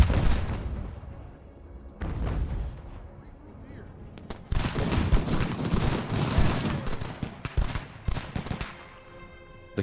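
Volleys of musket fire and booming artillery in the Ultimate General: Revolution video game, with repeated sharp cracks and heavy bursts that thicken into sustained battle noise, while someone talks over them.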